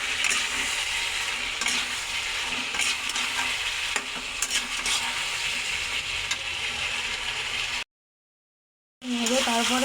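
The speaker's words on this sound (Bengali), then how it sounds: "তারপর দেবো জিরের গুঁড়ো। বেশ করে এটাকে নেড়ে নেবো।" Cumin powder stirred in a hot frying pan gives a steady scraping sizzle for about eight seconds, then a sudden silence before the sizzling returns.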